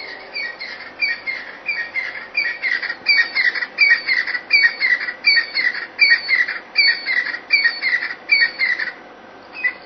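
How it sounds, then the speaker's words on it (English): Recorded francolin call played back through a speaker, a steady series of harsh, rhythmic squawking notes repeated without pause, moderately loud and clear with no talking. "play a sound of one of the francolins"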